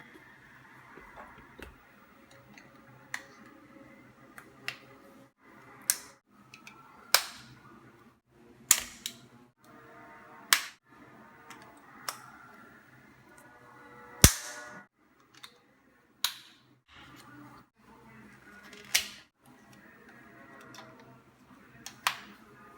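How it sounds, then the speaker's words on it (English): Attachments snapped one by one onto a Philips Multigroom Series 7000 trimmer, a series of about a dozen sharp plastic clicks spaced a second or two apart, close and distinct with faint handling rustle between them. "Now let's insert the attachments one by one."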